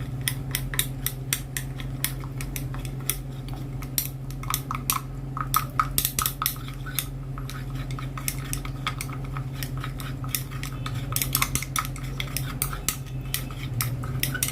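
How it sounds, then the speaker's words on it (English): Shower gel ingredients, including vegetable glycerin, being stirred by hand in a bowl: steady, irregular clinks and scrapes of a utensil against the bowl throughout, fairly quiet, over a low constant hum with no talk. "So I'm going to mix this together."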